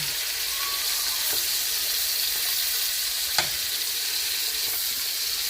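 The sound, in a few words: teal browning in butter and oil in a pan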